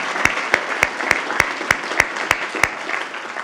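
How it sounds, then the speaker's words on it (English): Audience applause for team members at the October 2023 IANR all-hands meeting, a steady wash of clapping with one prominent pair of hands striking in an even, regular rhythm close by. "Let's give them an applause."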